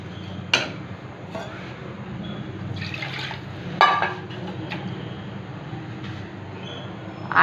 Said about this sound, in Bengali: আর একটু জল দিলাম।